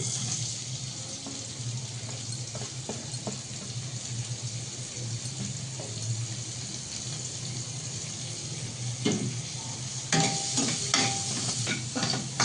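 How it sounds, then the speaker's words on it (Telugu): Thinly sliced onions fry in about three spoons of oil in a pan, a continuous close sizzle with scattered stirring scrapes and a brief louder burst toward the end. "ఇదే ప్యాన్లో ఒక 3 స్పూన్స్ ఆయిల్ వేసుకొని ఇలా సన్నగా తరిగి పెట్టుకున్న ఆనియన్స్ వేసుకోవాలండి"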